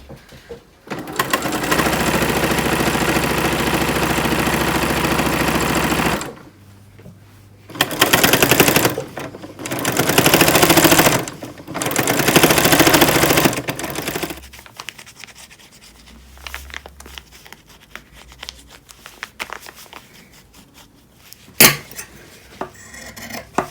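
A sewing machine stitches a zippered bag in several steady, loud runs of a few seconds each, split by pauses, with small handling clicks and fabric rustles between the runs.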